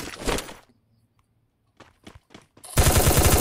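Gunfire in the mobile battle-royale game Free Fire: a short burst at the start, a few scattered shots, then loud sustained automatic fire close up at the end.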